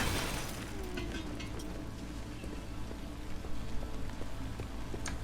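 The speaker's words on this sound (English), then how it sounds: "I like the pitter-patter of the rain" Steady pitter-patter of rain in the driving game Pacific Drive, a soft continuous hiss with scattered drop ticks and low rumbling underneath, fairly faint and even throughout.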